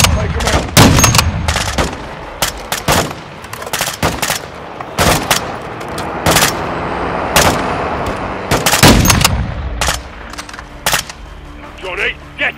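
Rapid gunfire from Modern Warfare 2 during the prison break mission: repeated loud, sharp shots and bursts crack throughout, some in quick runs, over a bed of battle noise, with voices faintly present.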